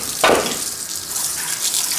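Hot water rinsing aluminium engine cylinder heads, a continuous hissing spray with a brief stronger gush near the start, close and fairly loud, no speech.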